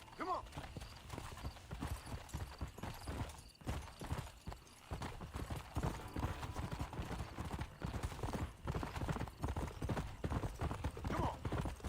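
Rapid hoofbeats of a galloping horse in Red Dead Redemption on PC, a loud, dense, continuous clip-clop rhythm close up, with a person talking over it now and then.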